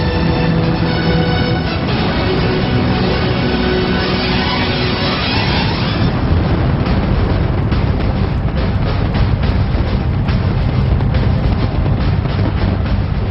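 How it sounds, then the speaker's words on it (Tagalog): New Year fireworks display at Burj Khalifa in Dubai, a continuous loud roar of bursts and booms that shifts from tonal sound into dense crackling explosions, heard at a distance with no talking. "sinusubukan ng Dubai na basagin ang Guinness World Record para sa pinakamalaking fireworks display."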